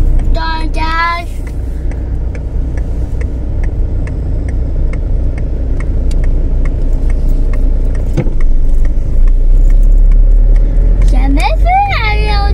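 A car on the road towing a caravan chassis, its engine a steady low rumble with faint rattling and ticking throughout, while voices speak briefly at the start and end.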